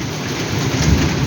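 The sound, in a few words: heavy rain and thunder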